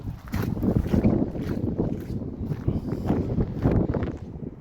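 Strong wind blustering outdoors across an open paddock beside a Bobcat ZT6000 mower, with a steady roar and rumbling gusts buffeting the microphone throughout.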